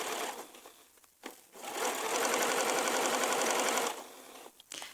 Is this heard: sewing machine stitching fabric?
yes